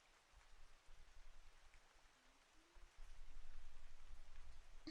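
Faint, steady rain patters softly in a quiet indoor room, growing slightly fuller toward the end, with no talking over it.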